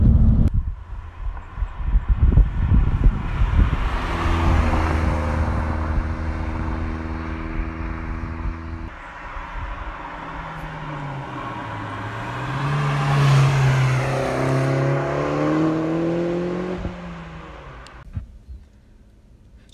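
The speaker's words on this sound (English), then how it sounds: "And I do love the popping and banging of this sports exhaust." A 2012 Mini Cooper S R56 hot hatch with a sports exhaust pulls hard through the gears, its engine note rising and falling in steady sweeps with a drone inside the cabin over about twenty seconds.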